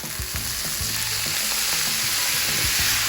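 Confit duck frying in a pan, a loud dense continuous sizzle with low thuds and scrapes as it is moved around, close and steady, no talk.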